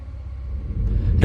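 A truck engine rumbles low as the gear goes in, then swells into a rising rush of acceleration that grows louder toward the end, all in a short burst with no voices.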